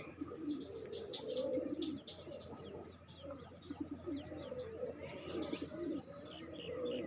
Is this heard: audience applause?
no